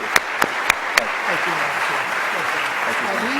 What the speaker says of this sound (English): now another round of applause